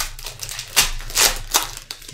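Keys on a computer keyboard clatter in a quick, uneven burst of sharp clicks close to the microphone, a few louder strikes standing out over faint room noise.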